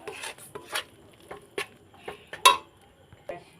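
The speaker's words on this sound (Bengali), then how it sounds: "একটু নেড়ে চেড়ে নিচ্ছি।" Rice flour dough being stirred and worked in a pan, heard as irregular scraping and knocking strokes of a utensil against the metal, close and fairly quiet, with no talking.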